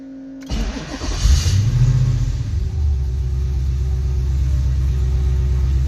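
A car left sitting for more than ten years cranks briefly, fires and catches, surging in a loud rev before dropping to a steady, rough, rumbling idle, all without talk.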